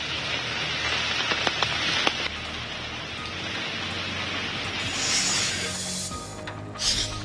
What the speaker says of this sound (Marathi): मुंबईत रात्री जोरदार पाऊस बरसलाय.